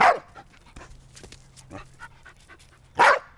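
Freckles, a small round pet dog, pants softly in quick, light breaths close by, with a sharper burst of breath or snuffle at the start and again near the end.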